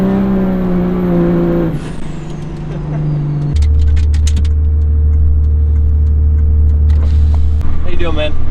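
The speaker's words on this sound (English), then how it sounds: "so small roll and burnout like that really isn't too much for it" 3rd gen Cummins diesel truck doing a burnout, a loud steady engine roar that drops and then surges to a deeper heavy drone, with squealing bursts near the end.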